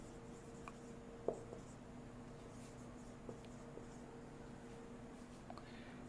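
Pen or chalk writing during a physics lecture on capacitors, faint scratchy strokes with a few soft taps over a low room hum.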